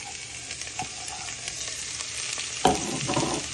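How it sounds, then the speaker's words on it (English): Onion, garlic and pepper fry in olive oil in a pan, with a steady close sizzle, a few light utensil taps, and a louder crackling burst as more goes into the pan. "You're now going to get your onion, garlic and pepper, and you place them in."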